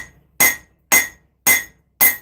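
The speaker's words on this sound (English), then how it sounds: "I should focus on hammering a little here and there." Four evenly spaced hammer blows ring out on hot metal during axe forging, each a sharp, bright clang with a short ringing decay, close and loud with silence between strikes.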